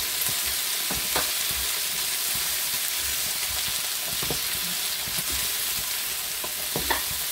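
Food frying in a pan with onion while being stirred, a constant close sizzle with occasional soft scrapes and clicks from the utensil, no voices over it.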